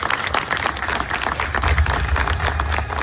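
Applause from an audience at a stage event, dense steady clapping from a crowd filling the whole stretch at fairly loud level, with no talk over it.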